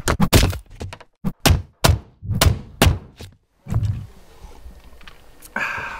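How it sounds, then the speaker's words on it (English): A DeWalt DCN45RND cordless coil roofing nailer fires a rapid series of loud, sharp thunks, about a dozen shots in quick uneven rhythm, close up, followed by quieter handling noise. "that will give you an idea of about how fast this gun can shoot"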